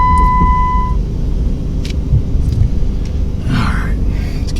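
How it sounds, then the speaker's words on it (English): A Jeep Grand Cherokee engine turns over and settles into a steady low idle rumble, close by and continuous, with a brief higher chime early on and some faint rustling noises. "Start it up. This thing starts right up"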